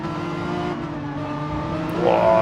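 Renault Megane Trophy race cars at Laguna Seca in a racing video game, running along the start-finish straight: a steady droning engine note that climbs into a louder, rising rev near the end.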